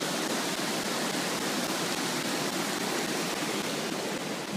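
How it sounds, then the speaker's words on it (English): Rushing floodwater pours through a street turned into a river during the 2013 Boulder flood, a steady, loud, broadband roar that holds constant throughout with no speech. "So this has really just become a river."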